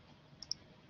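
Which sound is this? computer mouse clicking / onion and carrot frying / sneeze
computer mouse clicking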